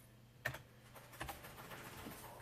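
Keys tapped on a computer keyboard give a few soft, separate clicks followed by light, quiet typing in a still room.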